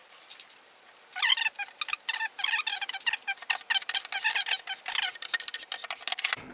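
Small screws being driven into a cast epoxy mold, heard as a close run of rapid, rhythmic squeaking ticks that starts after a quiet second and keeps going steadily to the end.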